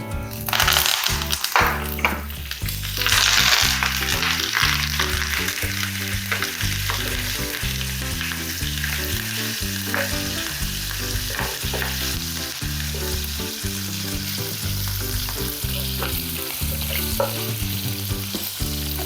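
Cumin, green chillies and curry leaves crackle and fry in hot oil for sabudana khichdi, a loud, busy sizzle under constant rhythmic spoon scraping against the pan, heard alone.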